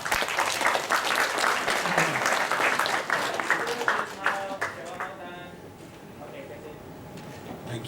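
Applause for shortlisted students at a youth writing awards ceremony, a broad crowd clapping steadily for about five seconds before thinning into scattered claps and faint murmuring voices.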